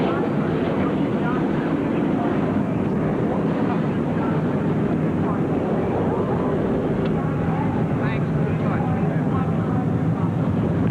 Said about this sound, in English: And the 40 cars fire to life here, getting set for our afternoon of racing at Richmond International.